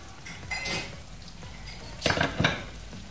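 Aloo baingan curry being served out with metal utensils, with a spoon scraping and clinking against a pot in a few short bursts, close and moderately quiet with no talk.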